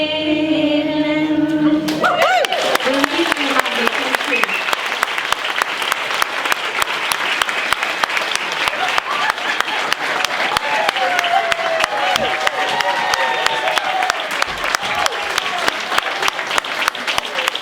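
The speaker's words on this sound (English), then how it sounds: "Big round of applause for Katrina and Jerry for helping us out" Crowd at the South Sligo Summer School 2024 tribute concert honouring Junior Davey applauds after a song: a brief musical tail, then loud, dense, sustained clapping that fills the room for many seconds, with some voices faintly underneath.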